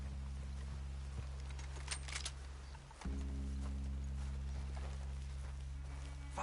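Horses walk steadily in Red Dead Redemption 2, their hoofbeats a continuous clip-clop over a low, droning game soundscape, with a brief dip midway before the steady plodding resumes.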